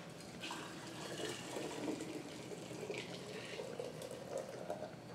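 Tomato juice pours and splashes steadily into a pot, a soft continuous trickling at moderate distance with no voices.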